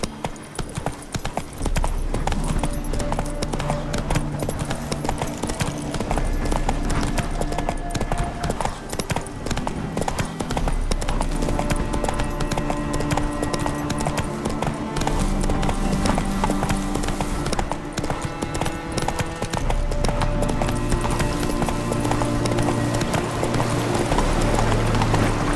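In Witcher 3, the horse Roach gallops with a rapid, steady clip-clop of hooves throughout, set against a layered musical score in the game.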